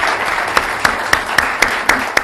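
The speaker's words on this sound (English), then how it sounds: "We get a round of applause for our panelists." Audience applause for conference panelists at a lobbying workshop, a steady wash of clapping lasting a couple of seconds with a few sharper individual claps standing out.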